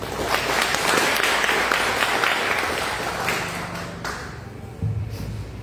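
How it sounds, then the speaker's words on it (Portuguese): Congregation applauding Christ during a church service, a steady wash of clapping that fades over several seconds before a brief murmur near the end. "Vamos dar aplausos a Cristo, bem?"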